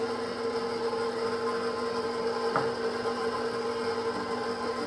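An electric mixer spins on low while mixing cake batter with sugar and salt, a steady, even motor whir with a constant hum and one small knock midway.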